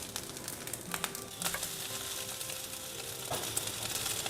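Egg and sausage sizzle in a pan for fried rice, a steady crackling fry with scattered pops and a few utensil scrapes, close and fairly quiet with no talking.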